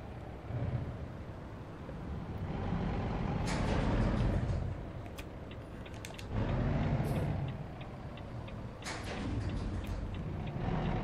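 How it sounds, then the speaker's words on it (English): A Volvo truck in American Truck Simulator, Washington State, releases its air brakes with several sharp hissing bursts over a low idling engine rumble, loud and close. "This is a Volvo truck and is rather powerful."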